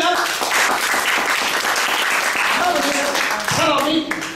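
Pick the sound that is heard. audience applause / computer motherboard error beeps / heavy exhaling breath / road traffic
audience applause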